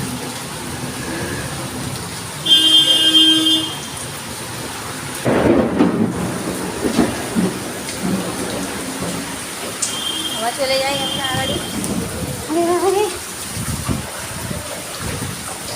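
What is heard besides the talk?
heavy rain and thunder in Jadavpur, Kolkata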